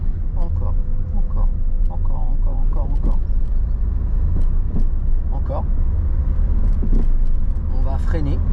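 A car accelerates steadily during a driving lesson, its engine hum running continuously under an instructor's voice giving directions.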